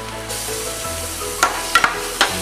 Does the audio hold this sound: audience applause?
no